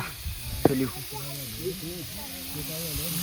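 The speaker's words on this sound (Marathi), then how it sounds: "या ठिकाणी आपली आई आता कांदा भाजून घेते चांगला" An onion roasts in a pan for a mutton dish cooked outdoors, a steady frying hiss under a voice talking nearby.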